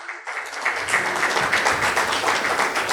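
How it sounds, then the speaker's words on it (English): Audience at a business summit in Chennai breaking into applause, a dense, steady burst of clapping from a crowd that starts abruptly and carries on for a few seconds. "please give him a big round of applause"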